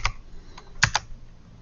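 Quick bursts of keystrokes on a computer keyboard as a Linux directory command is typed, a few close clicks spaced unevenly with a clustered pair near the end.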